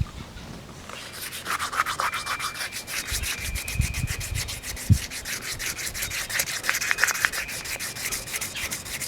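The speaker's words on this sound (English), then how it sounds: "What I'm doing is I'm sanding it down to, well, so it sands through on the high spots." Wet-and-dry paper sanding primer down by hand until it cuts through on the high spots, a steady close rhythmic rubbing and scratching that runs almost unbroken throughout.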